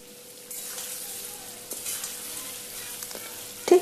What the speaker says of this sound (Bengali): তারপরে চিংড়িগুলো ভেজে নেব।